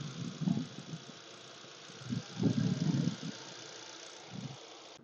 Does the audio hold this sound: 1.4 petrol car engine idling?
yes